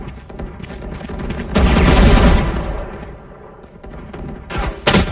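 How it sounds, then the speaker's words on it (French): Gunfire in the video game Valorant: loud bursts of rapid automatic shots crackle in the middle stretch, then die back, with another sharp volley near the end. "Ok, là je vois des tirs."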